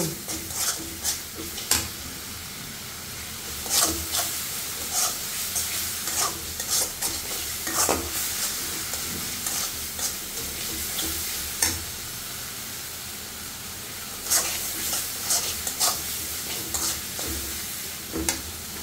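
Spice paste sizzles in hot oil as it is stir-fried in a pan for a fish and eggplant curry, with a steady fry and repeated scraping stirs of a spatula, close and clear with no talking.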